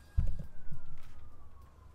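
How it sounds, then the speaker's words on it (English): A distant ambulance or fire truck siren drifts slowly downward in the background, faint and steady, while a few loud low thumps sound close by at the start. "there's ambulances and fire trucks going by, if you can hear them in the background"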